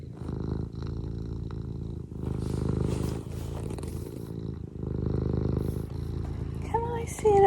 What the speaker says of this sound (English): Are you mostly purring?